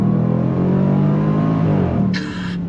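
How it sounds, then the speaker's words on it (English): A 2022 Range Rover Sport SVR Bespoke Edition pulls hard under throttle with a loud, deep engine roar, then shifts near the end and lets out a short crackling exhaust burble. "When it shifts and you're getting all that burble from the exhaust, not many SUVs sounding like that"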